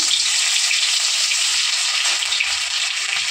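Garlic sizzles in hot oil in a kadai wok, a steady bright frying hiss that holds evenly at close range with no talk over it.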